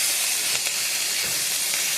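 Bitter gourd and neem leaves frying together in hot oil, a steady dense sizzle and hiss that holds constant and close throughout with no talk.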